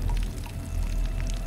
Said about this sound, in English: dumping water on these plants